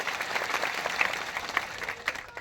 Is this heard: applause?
yes